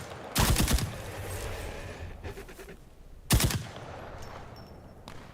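Two loud bursts of MP40 submachine gun fire in a video game, each a rapid rattling volley lasting about half a second, with quieter game ambience and faint distant shots between them.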